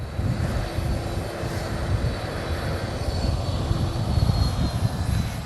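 Loud, steady roar of Air Force One's engines running continuously at close range at Palm Beach International Airport, a constant low rumble with a higher whine on top.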